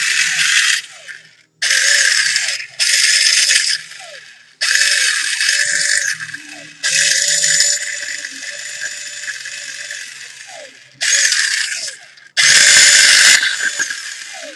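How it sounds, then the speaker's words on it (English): An Echo1 M14 airsoft rifle fires in repeated bursts, its motor and gearbox cycling with a whirring, ratcheting mechanical buzz; six or so separate bursts of a second or two each, loud and close, with short pauses between them. "I think that's really good setup right now for the motor, and the gear sounds really nice"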